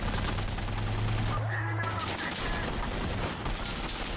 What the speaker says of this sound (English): Big ass machine gun.